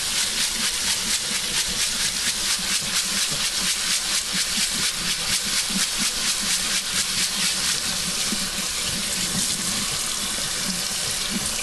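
Barley rinsed under a running kitchen faucet makes a steady, loud, continuous splashing hiss of water pouring into a sink, with no voices.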